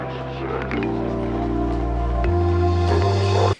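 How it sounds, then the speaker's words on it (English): A song plays through automated high-pass and low-pass filters, its sustained bass and chord tones shifting in weight as the filters move, continuous and fairly loud until an abrupt stop. "we're going to put on a high pass and low pass filter."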